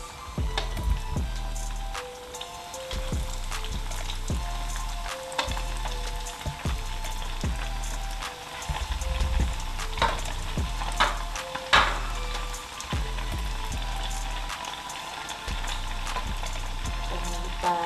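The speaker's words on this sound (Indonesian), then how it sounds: "Oke, sekarang aku goreng." Corn dog battered and coated in breadcrumbs frying in hot oil, a steady crackling sizzle with scattered pops and occasional clinks of a utensil, close up and without speech.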